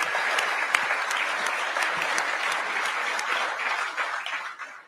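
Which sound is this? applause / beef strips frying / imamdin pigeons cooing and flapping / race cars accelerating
applause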